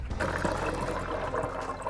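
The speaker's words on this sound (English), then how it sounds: "The next thing I want to do is shower these 5 layers of marble cake with simple syrup." Simple syrup squeezed from a bottle onto five layers of marble cake makes a steady liquid trickle and splatter, close and continuous for about two seconds, with no voices.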